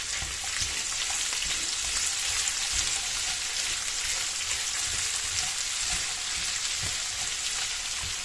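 Chopped onion frying in a pan for chicken with zucchini, a steady dense sizzle holding at an even level throughout, close and continuous with no voices.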